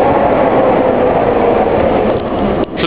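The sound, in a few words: passing tram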